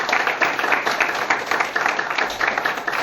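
An audience at a motivational seminar claps loudly and steadily for the company's CMD, a full, even roar of hands with slight rhythmic pulsing.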